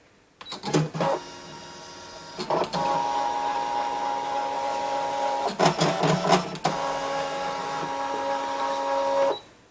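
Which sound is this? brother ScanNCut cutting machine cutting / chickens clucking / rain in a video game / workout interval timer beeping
brother ScanNCut cutting machine cutting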